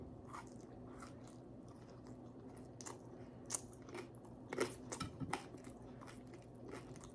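Crispy Filipino pork belly crunched and chewed close up, soft bites and crackles repeating at an irregular pace over a quiet background, with no talking.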